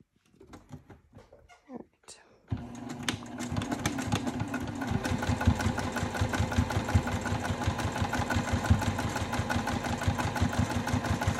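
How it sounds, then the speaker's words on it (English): Sewing machine stitching along a folded fabric grab handle for a crossbody bag, a fast steady needle chatter that starts after a couple of seconds of quiet handling and runs continuously, close and fairly loud. "now we'll hop on over to the sewing machine, and we're gonna backstitch at the beginning and end and sew just along this"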